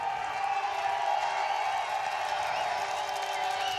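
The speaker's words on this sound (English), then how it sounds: "So a noisy crowd, as we might have expected, eagerly awaiting the start of this one." Before a European hockey league match, the arena crowd keeps up a dense, steady roar of many voices and scattered cheers, with no single sound standing out.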